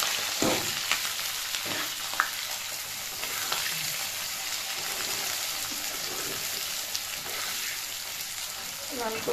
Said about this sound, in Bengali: তো এগুলো লাল করে ভেজে নেব।